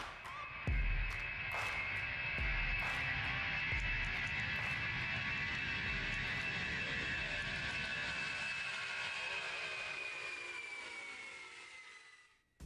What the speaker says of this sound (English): Today on the runway is the Lockheed C-5 Galaxy.